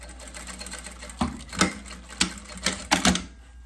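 Sewing machine running bursts of stitching along the side of a small fabric Easter gift bag, with several quick whirring runs and short pauses between them, close and fairly loud, no talking.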